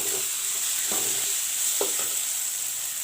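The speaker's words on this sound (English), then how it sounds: "I will let the tomato cook with the onions." Tomatoes and onions frying together in a pan for masoor dal, a continuous bright sizzle with a few brief stirring scrapes, close and fairly loud, no speech.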